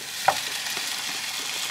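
Pearl couscous with sweet potato cubes, mushrooms and onion sizzles in a pan, giving a soft, steady frying hiss with one sharp clink of a utensil near the start.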